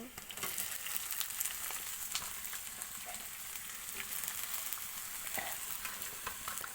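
Ash gourd (chal kumra) fries in a pan with a continuous close sizzle and occasional soft stirring knocks, with no voices.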